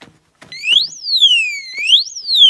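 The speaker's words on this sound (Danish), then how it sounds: "Og nå går alarmen da." The built-in alarm of a Fenix BC35R bicycle light sounds loud and close: two rising-and-falling electronic siren sweeps follow a few short clicks, with no talk over them.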